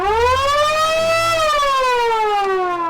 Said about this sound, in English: we hit the siren